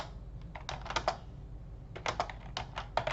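Clusters of quick computer keyboard keystrokes in two bursts separated by a pause, close and moderately loud over a low steady hum, while data values are entered into a scatter plot app.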